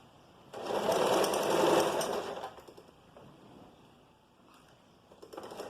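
A sewing machine stitches a seam on a vest, its motor whirring in one loud, sustained run of about two seconds before easing off into quieter handling noise, with a faint second start near the end.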